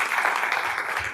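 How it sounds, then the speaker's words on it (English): Steady applause from an indoor audience at a county commission meeting honoring years-of-service award winners, a dense wash of clapping sustained evenly for about a second with no talk over it. "another round of applause for those year service award winners"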